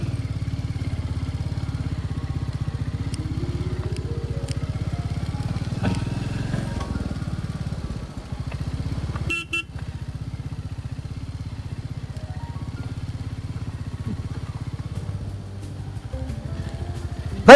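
A motorcycle rides steadily along a rough, unpaved road outside Dehradun, its engine droning close and continuous with clattering bumps and shifting revs throughout.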